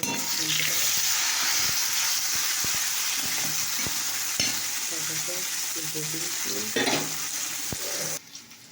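Teasel gourd pieces crackle in a hot pan, a loud continuous sizzle with rhythmic scraping of a spatula stirring them, close up, cutting off near the end.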